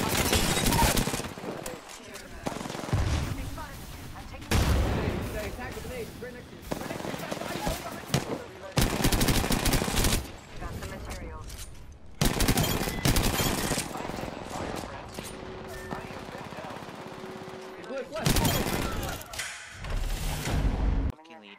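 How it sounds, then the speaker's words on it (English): Bursts of automatic gunfire from enemies in the shooter game Apex Legends crackle in rapid clusters separated by short gaps, loud and dense throughout, mixed with game sounds. "The enemies are shooting at me."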